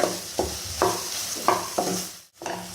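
A pan of chana dal and jaggery puran with cardamom powder is stirred in several rhythmic scraping strokes, with a soft sizzle underneath and a brief pause near the end.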